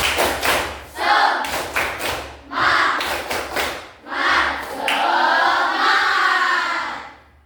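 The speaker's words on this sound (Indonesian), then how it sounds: "Tepuk semangat." A group claps together in a quick, patterned rhythm, loud and close, with shouting voices joining in toward the end.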